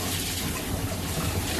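Soaked basmati rice being rinsed in water, a steady close splashing and sloshing wash that runs alone without pause.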